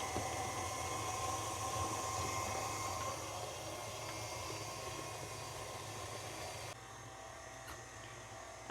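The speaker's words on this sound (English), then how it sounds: "we're going to turn the mixer way down" Electric stand mixer whirring steadily while beating banana bread batter, a continuous motor hum and buzz that drops to a lower, quieter speed near the end, with no talking.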